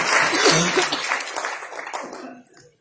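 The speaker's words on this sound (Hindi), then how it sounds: "तालियां होनी चाहिए सर के लिए" An audience in a hall applauds a speaker, a dense wash of clapping loudest at the start and thinning out before fading away after about two seconds, with a few coughs and murmurs mixed in.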